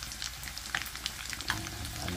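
Chicken frying in oil crackles and sizzles steadily up close, with scattered sharp pops over a continuous hiss.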